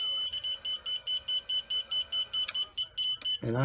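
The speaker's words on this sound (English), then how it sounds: "I have the beeper right now on air mode. That's why it's beeping solid like that." An Aurora 90 drone's beeper in air mode gives a rapid, regular train of short, high-pitched beeps close by, with a brief voice cutting in at the end.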